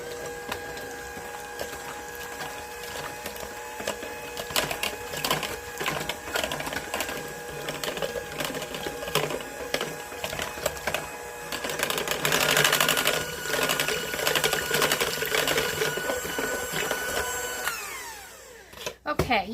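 A blender mixes melted butter with dry mix, giving a steady whirring motor hum that runs almost the whole time, grows a little louder partway through and cuts off near the end.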